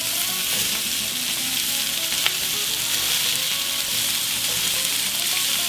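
Steak fajita vegetables sizzle steadily in a hot pan beside the steak, with a constant bright hiss and occasional soft scrapes of stirring, close and continuous with no talking.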